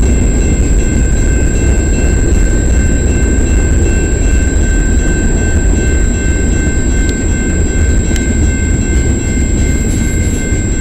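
Freight train 396 carrying Caterpillar excavators rolls past on the Dundas Sub at Colborne St in London, Ontario, a loud, close, continuous rumble laced with steady high wheel squeal, no voices.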